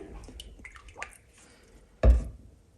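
Oil is poured into a pressure cooker holding beans with onion, salt and garlic. Faint drips and small liquid sounds lead to one short, louder splash near the end.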